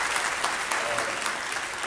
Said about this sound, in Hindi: इनके लिए भी जोरदार तालियां हो।